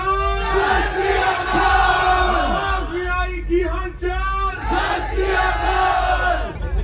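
A crowd at an event loudly cheering, yelling and whooping for a performer, a dense continuous roar of many voices with shouts rising above it.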